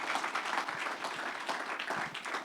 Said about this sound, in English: And a round of applause of appreciation for the coordinating.